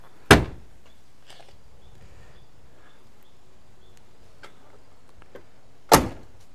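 The side of a 1974 Mercury Colony Park station wagon is opened and its seat released and folded: two loud, sharp thunks, one near the start and one near the end, with faint clicks and rattles between.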